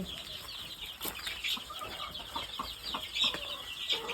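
Chickens in a shed give short clucks and scattered calls, with a brief flutter of wings among them, close and fairly soft over quiet background noise.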